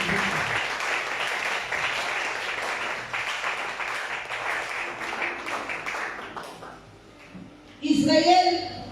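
A church congregation applauds, producing a dense, sustained wash of clapping that fades out after several seconds, followed by a voice speaking.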